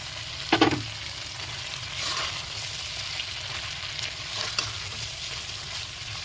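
Fried prawns going into hot spice masala in oil for a prawn malai curry, with a steady close sizzle throughout and sharper scraping stirs near the start and at a couple of later moments.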